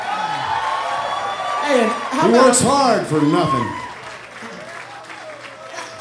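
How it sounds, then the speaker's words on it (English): Crowd at a rock concert in Boston applauds, with whoops, shouts and a few laughs rising in a swell midway, while someone talks over the noise from the stage. "So give him a round of applause, would you?"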